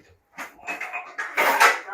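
Metal spoons clink against a plate at a buffet serving biryani, with a few light, bright taps and scrapes mixed under someone talking nearby.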